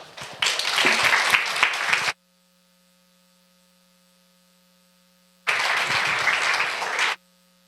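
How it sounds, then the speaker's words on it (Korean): Church congregation at a Friday prayer meeting gives two loud bursts of applause welcoming a woman deacon to the front, each lasting a couple of seconds and separated by a quiet gap with faint electrical hum. "이 시간 우리 줄리조 집사님 나오실 때 큰 박수로 맞아주시면 감사하겠습니다."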